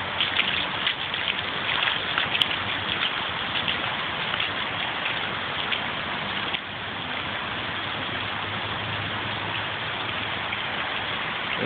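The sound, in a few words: floodwater flowing through yards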